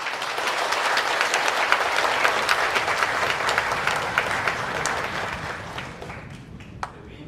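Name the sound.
applause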